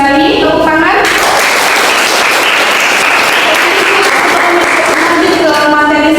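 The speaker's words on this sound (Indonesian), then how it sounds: "Oke, baik, bagus sekali, tepuk tangan." Loud, close classroom applause from students at a health college, a dense burst of clapping lasting about three seconds, bracketed by a voice speaking before and after.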